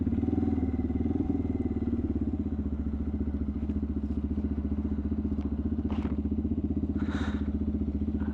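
A CFMOTO Papio SS motorcycle fitted with an aftermarket slip-on exhaust rides steadily, its engine droning loud and close throughout with a few light clatters and thumps over the top.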